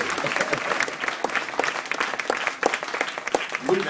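An audience applauds at a live show, steady close clapping from a crowd that continues for several seconds.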